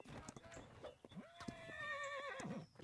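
A horse in the video game Holdfast: Nations at War whinnies in a long rising, wavering call, with hoof clops and thumps around it.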